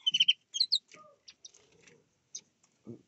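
Small aviary birds, Gouldian finches and Java sparrows, give a few high, close chirps and short twittering calls in quick bursts separated by silence, with one lower soft call at the end.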